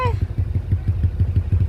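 A motorcycle engine putters out beside a rice paddy in a Perak village, its steady low pulsing close by and even. A brief whistle-like tone opens the clip.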